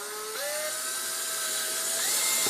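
A power drill with a 7/32 bit bores a hole through a plastic helmet, giving a close, whining spin that rises in pitch as it bites into the material, steady and alone for a couple of seconds.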